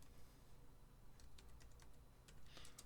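Computer keyboard typing as light, quick key clicks in a short run over a steady low hum, faint and somewhat distant.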